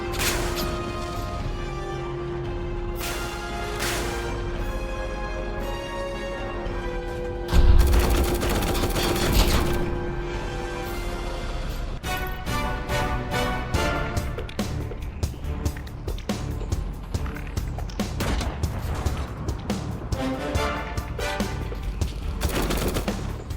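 Gunfire and tank cannon shots from the War Tycoon video game, with a Leopard 2A-RC battling Shermans, crackle in rapid bursts throughout, and one heavy boom stands out near the middle.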